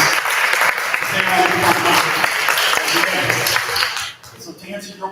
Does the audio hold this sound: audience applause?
yes